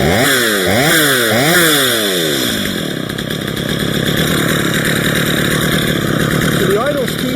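A Stihl MS 230 chainsaw revs loudly a few times up close, then settles into a steady, rough idle that holds for the rest of the clip.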